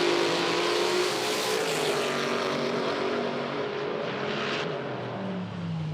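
An IHRA drag race car makes a pass down the strip, its engine a loud, sustained roar that holds steady and then tapers slightly as the car moves away toward the end of the run.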